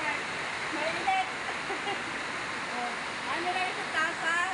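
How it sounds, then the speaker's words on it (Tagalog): Steady, heavy rain roaring as a dense hiss, with a few faint voices and clinks underneath. "Lakas na ng ulan! Ang lakas ng ulan!"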